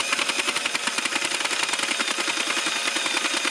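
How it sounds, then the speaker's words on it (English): A power drill drives the crank of a 40 pin Sentro knitting machine, making a loud, steady, rapid mechanical rattle that chatters continuously at close range, with no voices. "so we'll use the drill"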